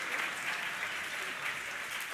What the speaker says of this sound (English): Give him another round of applause for that.